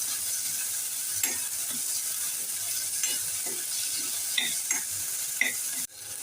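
Frozen peas, carrot and other vegetables sautéed in a pan for a masala noodle dish: constant sizzling hiss with intermittent spatula scrapes and taps, ending in an abrupt clunk.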